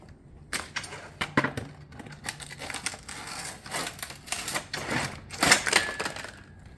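A metal cutter shears a sheet-metal valley panel for a barrel vault tile roof. Close, moderately loud snipping clanks and metallic rattles come in an uneven series.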